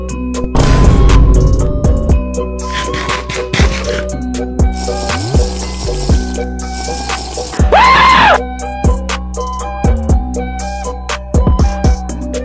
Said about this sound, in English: Scream if you like Sundanese.